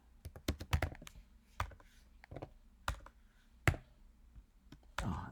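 Typing on a computer keyboard, a close series of sharp key clicks in uneven bursts with pauses between, some louder taps standing out against a quiet room.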